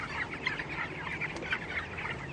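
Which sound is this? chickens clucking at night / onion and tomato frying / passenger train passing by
chickens clucking at night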